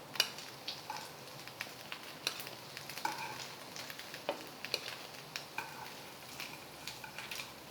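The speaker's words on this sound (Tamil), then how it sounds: "மீதி உள்ளதையும் இதே மாதிரி பொரித்து எடுத்துடலாம். மீதமுள்ள கட்லட்டையும் எண்ணெயில் போட்டுடலாம்." Rice flake (aval) cutlets frying in hot oil, a steady bed of sizzling with scattered crackles and pops, plus occasional light clinks of a utensil against the pan, close and alone without talk.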